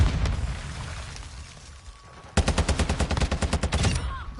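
In the shooter Modern Warfare II, a Semtex grenade blast is followed by rapid, loud bursts of battle-rifle gunfire, a rhythmic string of close shots after a rumbling start.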